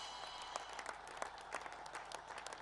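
A cricket crowd applauds Kusal Mendis's first T20 century in a PSL match, with steady, distant clapping and a crowd murmur that carries on throughout.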